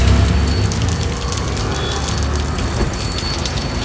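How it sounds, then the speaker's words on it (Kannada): Leaking water streams down off the Karkala municipal building and splashes below as a constant loud patter and hiss, with low rumbling underneath at the start. "ಮೇಲಿಂದ ಬಾನತ್ತರದಿಂದ ನೀರು ಬರ್ತಾ ಉಂಟು."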